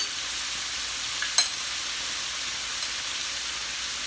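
Shrimp and broccoli stir-frying uncovered on high heat, a steady hissing sizzle with one brief utensil tap, fairly faint.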